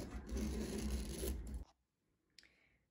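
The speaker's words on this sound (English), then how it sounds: "holding down your hoop and just using a plain ballpoint pen, you're going to trace around the edges" Ballpoint pen tracing around an embryoidery hoop on fabric: a steady close scratching and rubbing for about a second and a half, then near silence broken by one faint short scrape.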